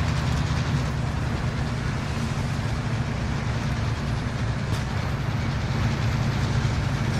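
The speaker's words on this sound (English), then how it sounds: "The train's magical, bro." A train rolls along in the Call of Duty: Warzone video game, a steady loud rumbling drone with low rail noise that holds evenly throughout without pause.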